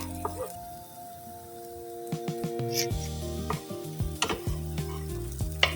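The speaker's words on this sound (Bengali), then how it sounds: "দেখেন এইভাবে কিন্তু আমি এই পরোটাটাও কিন্তু ভেজে নিলাম।" Stuffed egg paratha frying in a pan gives off a soft, steady sizzle beneath background music, with a few sharper clinks and scrapes from the pan.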